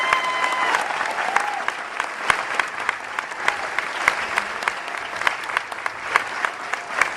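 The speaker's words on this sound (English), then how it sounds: "Please join us in one more round of applause for these outstanding Rangers" Audience applause at a US Army Ranger graduation ceremony for the graduating Rangers, a steady round of clapping from a large crowd with sharp individual claps standing out, sustained throughout without speech.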